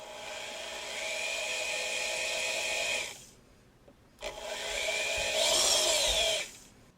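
A power drill boring small dimples into the tang of a full-tang knife made of 1095 steel, two sustained grinding bursts separated by a short pause, close and fairly loud with no talking.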